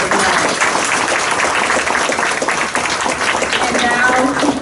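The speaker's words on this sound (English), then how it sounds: "If we could please give our service a round of applause." Brisk audience applause for the service staff at a celebration dinner, dense close clapping throughout with some crowd noise mixed in.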